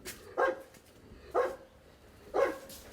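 A growing puppy at a family home barks three times, evenly spaced about a second apart, each bark short, close and clear against a quiet room.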